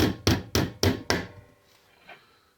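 A hammer bangs on a steel armguard vambrace to bend it, with the blows landing over an air gap. Five loud, evenly spaced strikes are followed by faint rubbing and a quiet knock.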